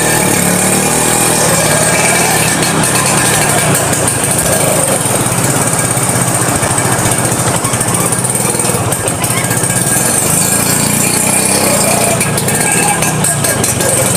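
A 200cc classic motorcycle engine runs loud and close, a steady buzzing, chattering drone with no break throughout.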